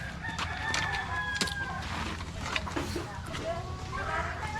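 A Boston gamefowl rooster crows in a gamefowl conditioning yard, with drawn-out, strained calls rising over outdoor background noise and other fowl.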